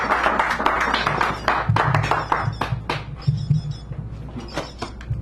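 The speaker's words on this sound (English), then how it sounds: "Give him a round of applause as he comes up here, please" Scattered clapping from a small café audience at a San Francisco poetry reading welcomes a poet to the stage, a dense patter of close hand claps with faint murmuring mixed in.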